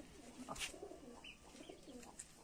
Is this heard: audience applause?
no